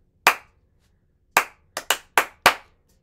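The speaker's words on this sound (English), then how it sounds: "usually it's played with a bunch of different hand claps going together at the same time" Six sharp hand claps ring out alone, the rhythm of a song intro: one, then a pause, followed by a quick irregular run of five, crisp and close.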